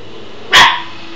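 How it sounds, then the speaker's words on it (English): A small dog gives a single sharp, close bark, loud and brief, against a quiet room background. "Shh. Little dog."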